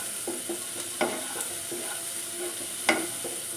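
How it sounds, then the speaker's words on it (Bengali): Capsicum and green chillies fry slowly in a pan with a little salt for chilli chicken, giving a steady close sizzle broken by a few sharp stirring clacks and scrapes. "ক্যাপসিকামগুলো আর কাঁচা লঙ্কাটাও দিয়ে দেবো। অল্প একটু নুন দিয়ে দিয়েছি আর এগুলো সব আস্তে আস্তে করে ফ্রাই করতে লাগছে।"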